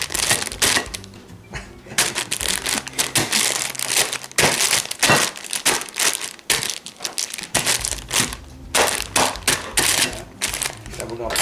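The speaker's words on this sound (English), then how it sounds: "And we're gonna punch holes in the bag." A plastic bag of steamed vegetables, broccoli, carrots and beans, being punched with holes: repeated sharp crinkling jabs and crackles in uneven bursts, loud and close, with brief pauses between.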